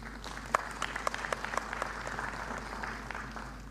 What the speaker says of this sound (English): I want to ask all the workers in this house to clap for the team from NSSF